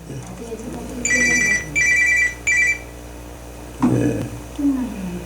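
A mobile phone rings in three short electronic bursts during a church service, close and clear. A voice speaks after the ringing stops.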